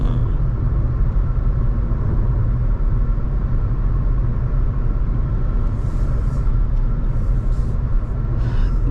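Skoda Kushaq 1.0 8AT cruising on a highway at 100 km/h and 2000 RPM, a steady low cabin rumble of engine and road noise, even and continuous, without talk.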